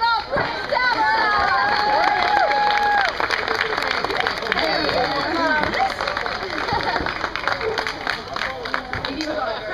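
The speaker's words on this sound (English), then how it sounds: "I believe that's round of applause for our new Gulf Queen Tamara." Applause and cheering from a crowd at a Renaissance Faire, welcoming a newly crowned queen, dense and steady with scattered shouts, claps and high voices mixed with talk throughout.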